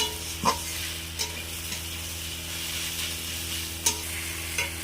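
Onion, garlic and ginger paste fries in a pan, hissing with a steady close sizzle, and a spoon scrapes and stirs it now and then.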